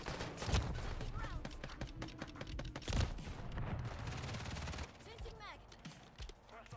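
Rapid gunfire from a Call of Duty video game: dense bursts of automatic shots and sharp cracks come loud and close, with heavy rattling fire that thins out toward the end.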